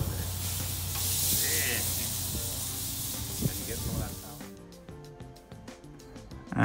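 Porterhouse steaks landing on a hot grill over a healthy fire, a loud broad sizzle and hiss for several seconds that drops away, leaving quieter crackles and small knocks.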